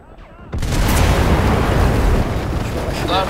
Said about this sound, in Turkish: Nasıl etkiledi beni o bomba ya?